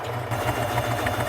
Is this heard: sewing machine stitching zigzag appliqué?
yes